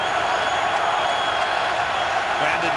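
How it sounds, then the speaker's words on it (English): A packed NFL stadium crowd at a Cardinals–Ravens game roars in a steady, loud, dense wash of cheering that holds without letup for a few seconds. "The crowd is back in it."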